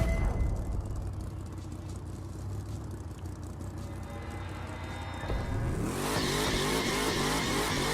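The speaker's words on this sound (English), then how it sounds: "Gonna set up the tires to be making a perfect burn." Car tires spinning in a burnout before a drag race in The Crew 2, a loud sustained engine roar that swells near the end into a revving, squealing rise, heard alone without voices.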